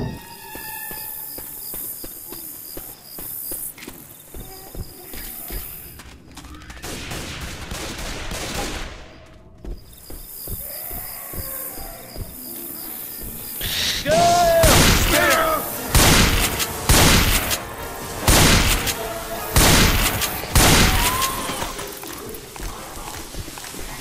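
Weapons firing in Left 4 Dead 2 at the Dark Carnival, a zombie shooter, as a quick run of loud, evenly spaced shots in the second half after a quieter stretch of ambience and movement.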